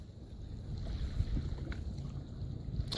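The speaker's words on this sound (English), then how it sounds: "When the wind's too windy, it's not good." Steady wind at a lake rushing and buffeting against the microphone, a low continuous roar with gusty swells throughout, and no voices.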